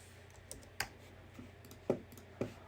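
A computer keyboard is typed on at a close, quiet desk, with a handful of sharp, irregular key clicks spaced across a couple of seconds.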